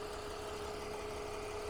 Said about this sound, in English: Check out this M54 straight 6. Listen to how smooth and quiet this engine is.